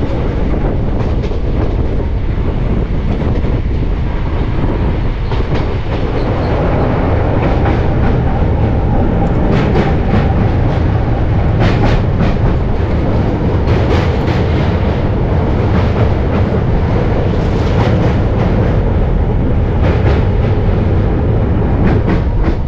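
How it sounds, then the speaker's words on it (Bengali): A train pulls out of Krishnanagar City Junction, its wheels and carriages producing a loud, steady rumble with clickety-clack rhythm and rattling throughout, heard from on board with no voices. "ট্রেন কৃষ্ণনগর সিটি জাংশন থেকে ডিপার্চার করলো"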